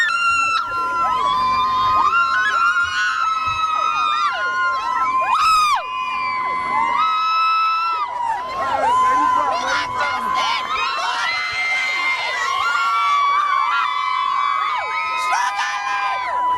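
At a Justin Bieber show, a large crowd of mostly young fans screams, whoops and cheers continuously, with shrill overlapping voices close by and sustained high-pitched shrieks rising and falling throughout.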